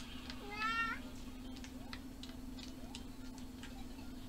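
A house cat gives a single short, faint meow, followed by soft scattered ticks over a constant low electrical hum.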